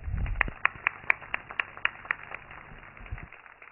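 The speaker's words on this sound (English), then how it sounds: "Please welcome with a huge round of applause, Mr. Abdul Razak Qureshi." Scattered claps from a convocation audience at a tourism and hotel management institute, a dozen or so sharp separate claps at a steady pace, fairly faint and thin, with a low rumble at the start.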